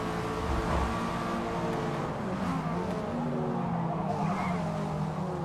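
A car in the video game Forza Motorsport braking hard into a corner, with tyres skidding and squealing under a loud, continuous engine drone that shifts pitch as the car slows.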